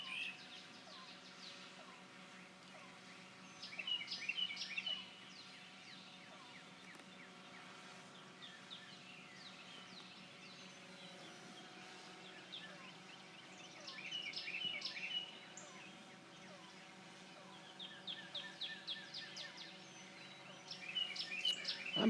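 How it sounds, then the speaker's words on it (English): Several birds chirp and sing at sunrise under a cloudy sky, their calls coming in scattered bursts over a steady low background hum. "Birds are sure singing though."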